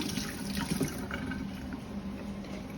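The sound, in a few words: washing green onions under running water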